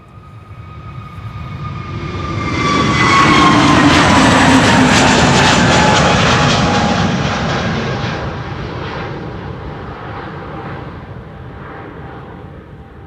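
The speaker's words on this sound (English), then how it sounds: "a KLM Dreamliner to San Diego in the background" A KLM Boeing 787-9 Dreamliner departs Amsterdam Schiphol's Polderbaan runway on a windy day, its jet roar swelling loud and close with falling whine tones, peaking midway, then slowly fading as it climbs away.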